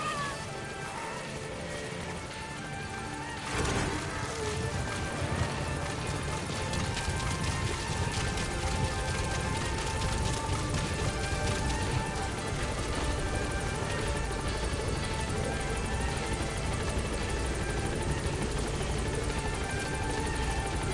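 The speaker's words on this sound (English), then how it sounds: "Support helicopter has arrived." A support helicopter arriving in a PS4 video game, steady loud rotor roar filling the whole stretch, with a sharp burst early on and no pause.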